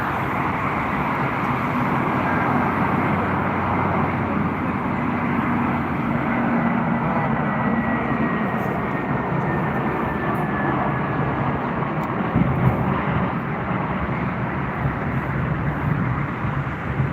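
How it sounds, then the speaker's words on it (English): A Finnair Airbus A320 from Helsinki comes in to land at Frankfurt Airport, its engines a steady, loud broadband roar that holds for the whole stretch with a faint whine riding on top, and no voices. "So Finnair from Helsinki, Finland is arriving. Airbus A320 to Frankfurt International Airport."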